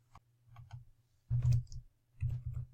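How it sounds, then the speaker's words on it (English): Computer keyboard typing in short bursts of soft, close clicks, a few isolated keystrokes followed by two quick clusters, quiet and without speech. "I'll just type it in all capital letters"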